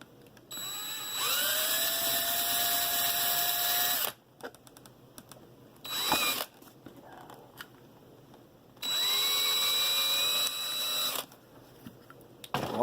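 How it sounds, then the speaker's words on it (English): A small power drill reams into a die-cast toy car, whining in two long bursts of about three seconds each with rising pitch as the motor spins up, a short buzz between them, and quiet handling noises in the gaps. "Wandering drill."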